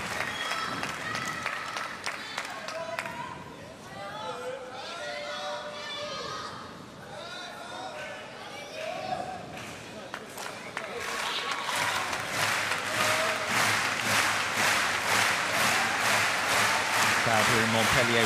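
Arena crowd applauding at a table tennis match in Montpellier, clapping that swells into loud sustained applause, with cheering voices and a commentator talking over it.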